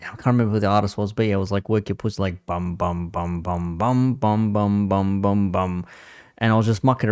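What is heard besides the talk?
No everyday noises stand out.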